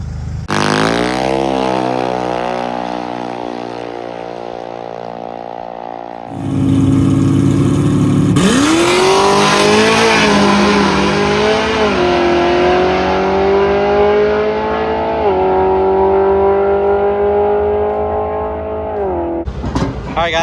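A PDRA Super Street drag car on slicks launching and shaking its tires, its loud engine holding a droning idle, then roaring up through rising revs at full throttle with a sharp cut near the end.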